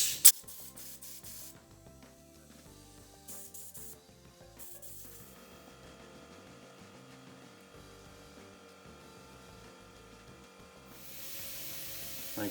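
Compressed air blasts through the passages of a 3.3 hp Mercury outboard carburetor in several short hissing bursts, then a longer spray at the end, close up with no talk.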